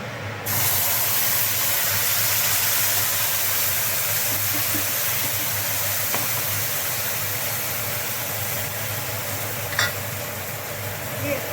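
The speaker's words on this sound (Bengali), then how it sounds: "এইবার এই যে এই তেলটা, ফোড়নটা হয়ে গেল, ফোড়নটা হয়ে গেছে। এবার এই মশলাটা ঢেলে দেবো।" Spice paste hits hot tempered oil and bursts into a loud, steady sizzle that holds evenly and close, with a faint clink near the end.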